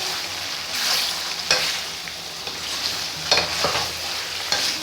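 Beef karahi stirred and frying in a pan, a steady sizzle with scraping spoon strokes against the metal at irregular intervals, close and fairly loud, with no voices.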